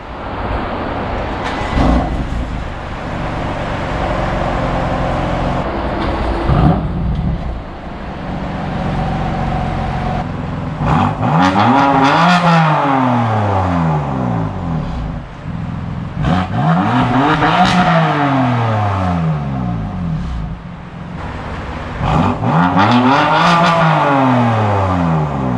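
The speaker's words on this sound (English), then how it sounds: "we'll give both cars a start up, and then you can obviously make up your mind which one sounds better" Two BMW F82 M4 coupes, the standard car and the Competition Pack version, start up and rev in turn, engines roaring loudly with repeated rising and falling revs and idle stretches between them, close to the microphone.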